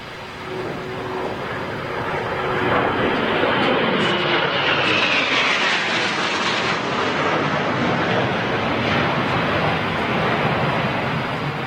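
Eurofighter Typhoon jets at RAF Coningsby roar past as a loud, sustained broadband rush that swells and holds for several seconds, with a falling whine as the aircraft passes, and no talking.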